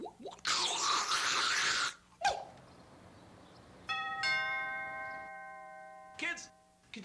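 A two-tone doorbell chimes indoors in a house, its bright ringing tones sustaining and slowly fading, preceded by a burst of broadband noise and a loud thump.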